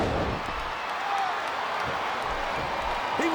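Video-game wrestling crowd noise from WWE SmackDown vs. Raw 2007, a steady broad roar of spectators with faint chanting and cheering running throughout, no talk over it.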